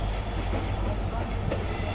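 Rajasthan Sampark Kranti Express, hauled by a WDP-4 diesel locomotive, running on the main line: steady rumbling wheel and carriage noise with faint rhythmic clatter, heard from on board, continuous and moderately loud.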